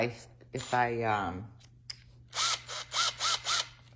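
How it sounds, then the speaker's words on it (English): A voice speaks briefly, then a power drill fires in four short, quick bursts close by into a vintage silver platter, each a sharp whine that stops and restarts. "Maybe I'll just try drilling it."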